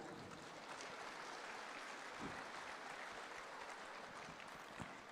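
A crowd applauds the President of Indonesia at a civil servants' corps event, a dense wash of clapping from many hands that holds evenly from start to finish, heard from some distance.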